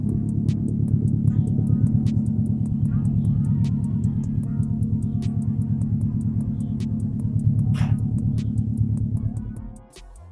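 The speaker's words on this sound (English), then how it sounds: "I'll insert a clip of the car cold starting in a moment." A Subaru WRX with a 76mm exhaust idles after a cold start, a loud, steady, throbbing low rumble with rapid pulses that holds for about ten seconds before dropping away at the end.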